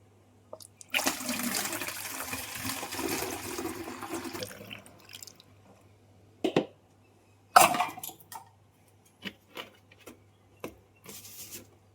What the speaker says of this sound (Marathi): आता ही मी बिस्लरीची बॉटल घेतली, त्याच्यामध्ये ना हे पाणी मी भरून घेते.